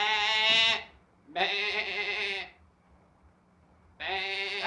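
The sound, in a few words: voice imitating a sheep bleat as a signal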